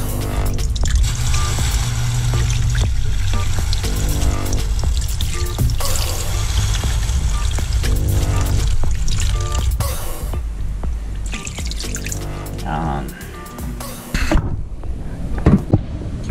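Water is poured into a pot of rice being cooked with mooneye fish by a river, a close, loud continuous splash and gurgle that later thins into trickles and drips.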